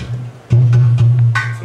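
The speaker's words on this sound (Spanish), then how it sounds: "El urú es un instrumento de África" An udu, an African clay water drum, being played: a deep, hollow, humming bass tone that swells and sustains, with a few soft slaps and taps layered over it, close and without voices.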